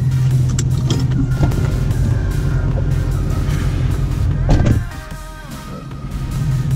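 A manual-transmission car pulls away in first gear, its engine holding a steady low drone with some wind buffeting, then easing off and quieting near the end.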